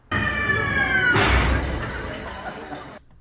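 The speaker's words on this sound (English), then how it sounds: "when you hear the screaming and then the crashing sound" A high, descending scream gives way to a loud crash and a sustained noisy rumble that cuts off abruptly, a sound effect in a Haunted Mansion ride stretching room.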